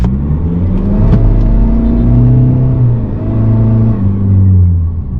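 An Isuzu D-Max with an AC60 automatic transmission accelerating at full throttle, the engine droning loudly and steadily from inside the cab with a rising, revving mid-pitched roar throughout.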